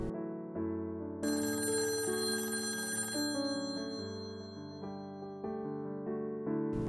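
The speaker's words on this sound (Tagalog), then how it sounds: "Hinudyatan niya ako na kunin ang telepono." A telephone ringing steadily, a loud close electronic ring tone sounding on its own with sustained repeating tones and no talk.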